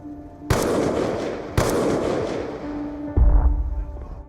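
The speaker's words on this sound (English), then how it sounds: "So, Frank Woods takes the shot at Raul Menendez" Gunfire as Frank Woods shoots Raul Menendez in Black Ops 6. Three loud, close blasts come about a second apart, each with a long booming, reverberant tail. The last blast is heaviest and deepest, and no one speaks.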